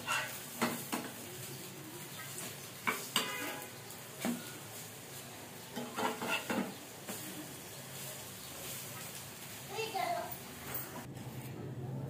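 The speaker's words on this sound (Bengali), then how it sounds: "হয়ে গেছে আমার ডিম আর পাউরুটি দিয়ে ভাজা" Egg-dipped bread slices frying in a pan, a quiet steady sizzle broken by scraping and clinking of a utensil against the pan, with a voice and other speech heard intermittently.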